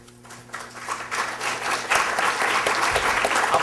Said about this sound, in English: I'll take that as applause